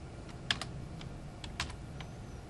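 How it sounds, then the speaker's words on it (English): Computer keyboard being tapped while typing a command, a handful of sharp close keystrokes in short irregular bursts over a quiet room hum. "Type in the command called align,"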